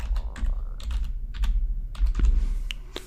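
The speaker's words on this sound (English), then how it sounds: "So type in the password." Close keyboard typing as a password is entered on a computer, with irregular clicks and taps in quick bursts over a low room hum; no one speaks.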